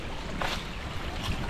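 A stream of water flowing in December gives a constant, broad rushing wash that carries on unbroken with no voices.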